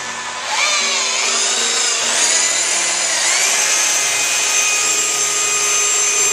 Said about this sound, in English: he's going to hit that with a little bit of polishing powder and the Makita, so that we can blend in the edges